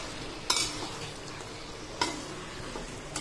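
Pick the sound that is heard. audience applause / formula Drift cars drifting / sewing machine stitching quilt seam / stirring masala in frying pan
stirring masala in frying pan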